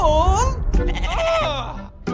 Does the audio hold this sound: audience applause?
no